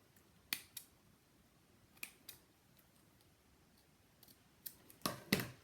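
Scissors cutting craft paper trim for a Valentine house, a few quiet, sharp snips spaced apart, then a quick cluster of louder cuts near the end, in a quiet room with no talking.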